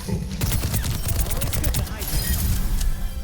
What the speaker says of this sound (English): So I hold this angle, I shoot Kuchu.